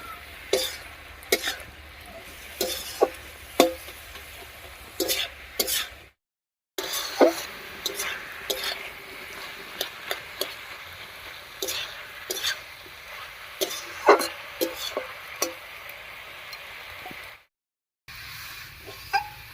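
Cabbage and potatoes seasoned with salt and turmeric are stirred in a pan, with repeated scraping clicks of a spoon against the pan over a soft, steady frying sizzle.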